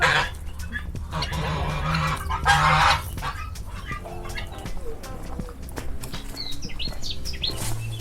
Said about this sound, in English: Oh, there are geese.